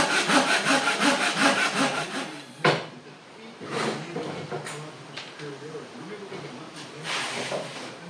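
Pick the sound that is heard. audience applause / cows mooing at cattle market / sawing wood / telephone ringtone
sawing wood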